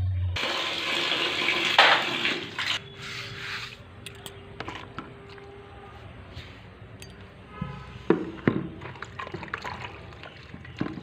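Water splashing and pouring onto garden plants in the morning, a loud hissing gush at first, then quieter trickles and scattered splashes with occasional handling noises.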